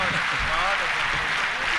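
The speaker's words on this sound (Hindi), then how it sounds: "एक बार जोरदार तालियों के साथ स्वागत करें।" Dense, steady applause from an audience at an Indore mushaira, welcoming the poet Nida Fazli to the stage; a continuous wash of clapping fills the whole stretch without a break.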